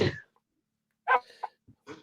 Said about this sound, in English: Someone's sneezing.